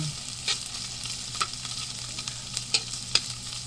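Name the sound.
sautéing espada chili peppers in a pan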